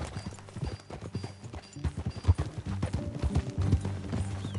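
Horse hooves gallop in the Western video game Red Dead Redemption 2, a rapid, uneven clip-clop of repeated hoof strikes with a brief whinny and faint background sounds.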